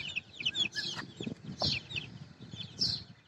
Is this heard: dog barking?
no